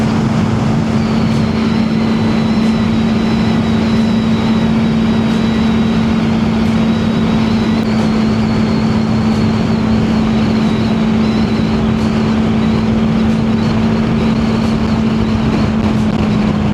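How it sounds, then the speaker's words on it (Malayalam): A new tractor on the highway near Ooty gives a loud, steady engine drone with a strong low hum, heard continuously from close by for the whole stretch. "പുതിയ ട്രാക്ടർ കണ്ടോ കൊണ്ടുപോകുന്നത്, പുതിയതാണ് കേട്ടോ."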